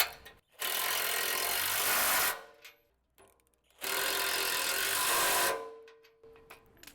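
A ratchet tightening bolts on a rear bumper of a 2021+ Ford Bronco, two sustained bursts of rapid clicking, each lasting about two seconds, with quiet pauses between.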